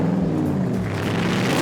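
A Ford Mustang GT500 engine revs loudly and steadily up close, a deep continuous roar with rising throttle and no voices.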